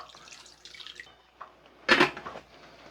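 Water splashes into a cooking pot as broth for salmon sinigang, a soft trickle building to one brief loud gush near the end, with faint drips before it and no talking.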